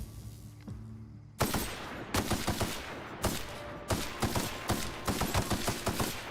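Rapid gunfire bursts in The Outer Worlds video game, loud sharp cracks repeating in irregular volleys after a brief quiet start, close and dense with no talking.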